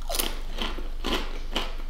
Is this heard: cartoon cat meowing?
no